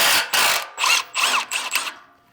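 Rusted exhaust pipe sections on a Ford Super Duty grind and creak as they are worked apart, a series of five or six harsh scraping bursts with short gaps between them, close and loud.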